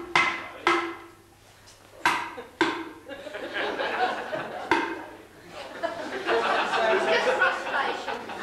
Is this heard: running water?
no